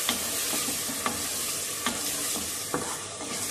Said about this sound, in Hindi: अब मैं मसाला डालने लगी हूँ, मिर्च, हल्दी, नमक, टमाटर, ये भी अच्छी तरह मैं भून लूँ